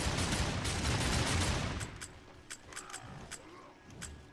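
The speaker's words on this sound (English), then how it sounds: "right trigger I can use my gun" A player's gun in Darksiders 2 fires a dense, rapid burst that cuts off, followed by a few sharp isolated shots and mechanical clicks, fairly loud in a game soundscape.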